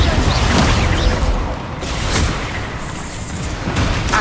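Confringo blast spells exploding in a duel in Hogwarts Legacy, with loud booming bursts and whooshes layered into a constant, chaotic roar of combat.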